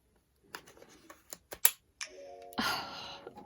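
Nintendo Switch Joy-Con controllers clicking into the console, a few sharp, quiet plastic clicks and taps, then a brief rising chime-like tone with a burst of rustling handling noise, close and isolated.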